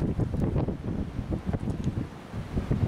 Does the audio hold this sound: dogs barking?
no